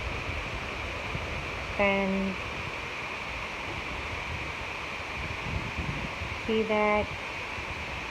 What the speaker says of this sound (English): I love the sound of the rain and the breeze of it.